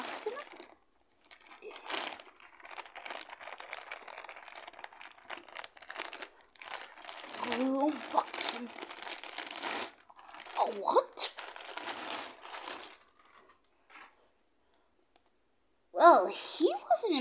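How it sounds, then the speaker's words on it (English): A Flying Squirrel Mario toy package being unboxed: close crinkling, clicking and crunching of packaging in bursts, with rustling tearing and quieter pauses, and a louder crackle near the end. "let's unbox Squirrel Mario."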